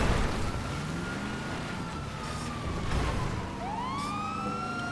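A police car siren wails during a chase in the video game GTA, its rising and falling tones sweeping loudly over a steady roar of engine and road noise, with no voices.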